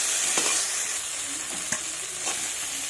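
Chopped tomato stirred into a frying fish head curry, producing a loud steady hiss of hot oil with a few spaced spoon scrapes against the pan, close and without talk.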